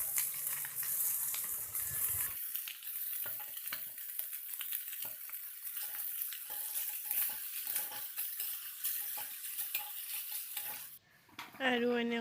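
Radish greens hitting hot oil alongside small fried fish in a pan, a steady soft sizzle and crackle with occasional stirring, fairly quiet and close.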